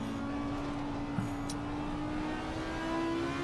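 BMW race car engine in a racing video game, a steady sustained drone holding a constant pitch, fairly loud and continuous with no talk over it.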